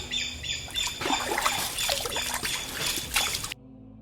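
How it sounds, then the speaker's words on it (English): Slow wading through shallow water in the Niger Delta rainforest, with soft sloshing and trickling splashes under scattered bird squawks and calls, ending in a sudden drop to near silence. "We have to wade through the water."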